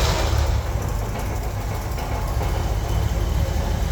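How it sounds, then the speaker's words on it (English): A 1963 Chevrolet Impala engine running after restoration, a loud, close, steady low rumble that holds at an even level throughout. "I'm gonna just fire her up and give her some revs"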